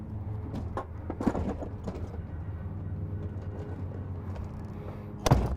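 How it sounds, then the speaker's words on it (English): A hard tonneau cover folds back on the bed of a 2020 GMC Sierra 2500HD Crew Cab Denali, giving scattered light clicks and rattles and a sharp clunk near the end, with no talking. "the hard tonneau cover folds all the way back"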